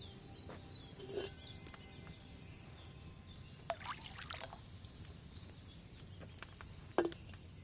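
Wine poured into a cauldron in the video game Kingdom Come Deliverance: a faint, quiet trickle with a few brief splashy bursts spread across a near-silent background.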